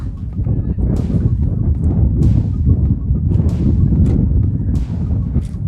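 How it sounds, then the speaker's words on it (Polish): Strong wind batters the microphone on the summit of Śnieżka mountain, a loud continuous low rumble with gusty bursts throughout and no clear speech. "mocny wiatr w tym szczycie wieje, powiem wam szczerze"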